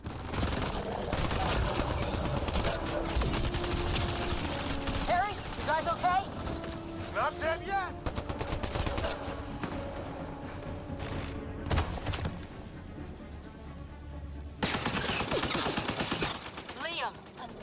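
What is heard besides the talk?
gunfire in Mass Effect: Andromeda video game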